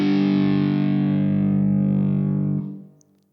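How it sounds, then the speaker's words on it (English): A distorted electric guitar sounds a perfect fourth interval in a heavy tone: one loud, sustained two-note chord that rings evenly for about two and a half seconds before fading out, alone with no voices. "This is what a perfect fourth sounds like."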